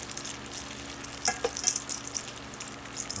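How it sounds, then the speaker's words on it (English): Sausage sizzles in a pan for shrimp and grits, a constant crackling fry broken by scraping and light clatter as it is stirred and turned, with no talk. "turn it around, stir it up. I just want to make sure I get my sausage nice and cooked too"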